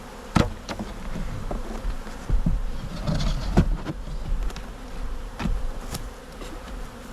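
Honeybees hum steadily around an open hive during an April inspection of a newly housed swarm, with scattered knocks and clicks of equipment being handled nearby.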